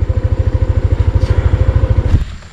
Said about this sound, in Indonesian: ini kita taruh motor dulu